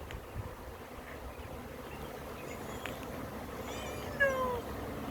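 Honeybee swarm moving into a trap outdoors, a faint steady buzzing hum that carries on throughout, with a brief higher whine near the end.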